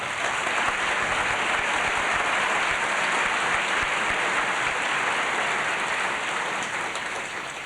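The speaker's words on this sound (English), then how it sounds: "Let's give them a round of applause" Sustained round of applause from an audience at a banjo music event in a Tennessee state park, dense and even clapping that holds steady and tapers slightly at the end.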